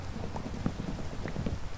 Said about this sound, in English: It is a thunderstorm, so technically we could sleep right now and skip all this